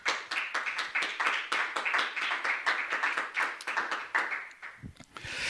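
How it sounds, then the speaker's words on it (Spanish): Congregation clapping in a church service, a lively run of sharp, fairly even claps filling the space for several seconds before tapering off, with a low thump near the end. "Otro aplauso, por favor."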